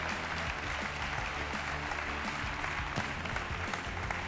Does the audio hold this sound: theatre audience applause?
yes